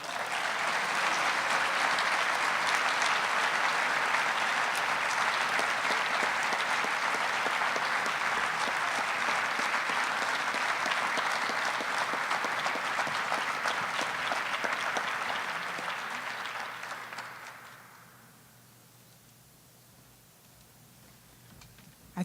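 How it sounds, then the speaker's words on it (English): Sustained, even applause from a dinner crowd honoring scholars at the Ronald Reagan Presidential Foundation awards dinner, loud for roughly seventeen seconds before tapering off into quiet room tone. "I think our scholars deserve one more round of applause."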